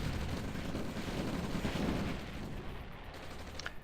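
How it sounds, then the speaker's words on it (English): Artillery in a Red Alert strategy game match pounds out a rolling barrage of overlapping booms and blasts that fades toward a few scattered pops at the end. "That's a nice artillery here."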